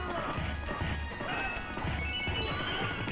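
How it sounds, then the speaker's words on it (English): Horse neighing in the Knights of the Round arcade game, a whinny rising over a dense, loud mix of crashing impacts, hoofbeats and game music throughout. "Get on that horse!"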